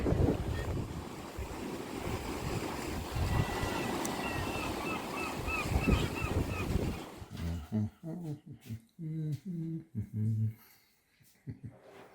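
Gusty wind buffets the microphone over a steady wash of sea surf, then the roar breaks into choppy bursts as the wind gusts on and off.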